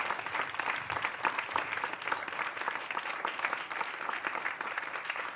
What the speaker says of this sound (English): continue that applause for our panelists as well